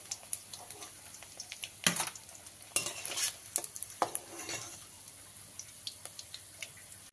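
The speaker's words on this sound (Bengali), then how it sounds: "এইভাবে বাকি কাঁটাগুলো আমি ভেজে নেবো ব্যাচ ওয়াইজ, ভালো করে লাল লাল করে এই কাঁটাগুলোকেও আমি ভেজে নেব।" Bhetki fish bones fry in oil in a pan, giving a soft, steady sizzle broken by sharp clicks and scrapes of a utensil stirring and lifting them, with no one talking.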